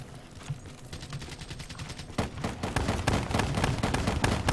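Rapid gunfire from a Call of Duty Black Ops III match rattles steadily throughout, sharp overlapping bursts and single shots that grow denser and louder in the second half, with no talking.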